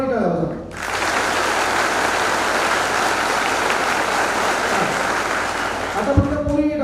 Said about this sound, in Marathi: फक्त पोरांनी टाळ्या वाजवा